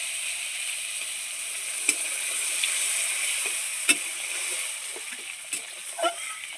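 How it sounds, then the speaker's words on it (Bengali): Water poured into a pan of sizzling spiced mixed vegetables seasoned with salt, turmeric and chili powder, giving a steady close hiss and sizzle with a few sharp splashes and pops. "এবার জল ঢেলে দেবো।"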